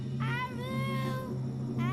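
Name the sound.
Child imitating the call of an imaginary creature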